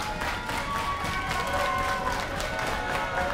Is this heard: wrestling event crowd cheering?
yes